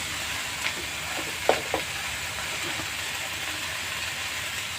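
Elephant foot yam greens stirred in a hot pan, a continuous soft sizzle with a few sharp clinks and scrapes of the spatula against the pan, close and unaccompanied by speech.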